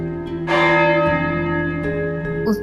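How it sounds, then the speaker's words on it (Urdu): A golden bell in a village clock tower rings out loudly, one rich struck tone with long humming overtones that swells and slowly decays, followed by a second softer strike near the end. "ایک سنہری گھنٹی لٹکی ہوئی تھی جو ہر صبح 7 بجے بجتی تھی۔"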